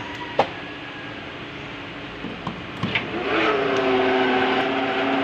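A motorcycle engine cranks with a few clicks, then catches and settles into a steady running hum, fairly close, during alternator testing.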